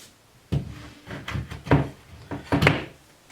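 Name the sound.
assembling wooden display showcase pieces onto cam pins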